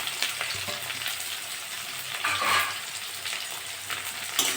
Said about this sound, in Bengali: পেঁয়াজ কাঁচা লঙ্কাটা একটু ভেজে নিয়েছি